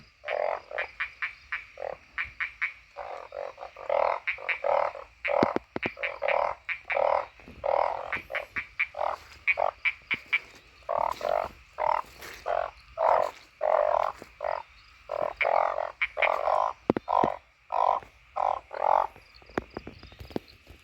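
A dense chorus of narrow-mouthed frogs calls after rain in rapid, overlapping croaks, steady and close, with occasional sharper clicks among them.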